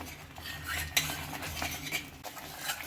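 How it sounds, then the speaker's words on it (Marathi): A thick ginger sweet mixture being stirred in a pan, with soft scraping and clinking of the utensil against the pan in an irregular rhythm, fairly quiet and close. "आणखी 3 ते 4 मिनिट आपण याला सतत हलवत राहणार आहोत."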